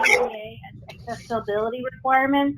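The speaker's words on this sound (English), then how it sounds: "I'm sorry about my dog" A dog barks and whimpers in short, high bursts during an online parks and recreation commission meeting, heard under and between a person's speech.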